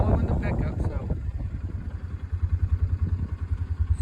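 A pickup truck rolls slowly across a cattle ranch on a winter morning, its engine a steady low rumble that settles into a rhythmic throbbing pulse toward the end, close and moderately loud.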